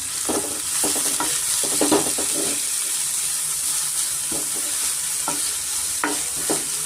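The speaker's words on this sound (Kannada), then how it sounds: "ಈರುಳ್ಳಿನೂ ಅಷ್ಟೇ ನಾವು ಚೆನ್ನಾಗಿ ಫ್ರೈ ಮಾಡ್ಕೋಬೇಕಾಗುತ್ತೆ" Onions fry with fennel seeds in a pan for a jackfruit seed curry, producing a loud, steady sizzle broken by several clattering stirs of a utensil against the pan.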